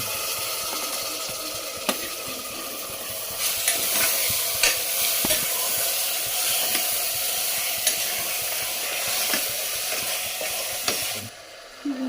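Goat mutton fries loudly in a pan with a constant hissing sizzle, while occasional stirring scrapes and knocks rise over it for most of the clip before the frying suddenly quietens at the end.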